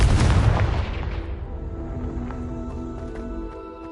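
A Confringo explosion spell in Hogwarts Legacy lands as a loud, close boom with a rumbling blast that slowly decays into a fading tail with faint tones.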